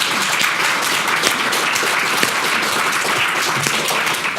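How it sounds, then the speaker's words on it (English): Audience applause for panelists at a game developers' conference talk, a full, even wash of clapping from the room throughout. "I'd like to give a round of applause for the panelists today"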